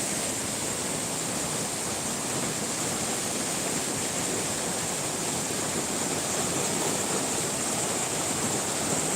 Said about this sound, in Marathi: रोज मुसळधार पाऊस पडत आहे लाईव्ह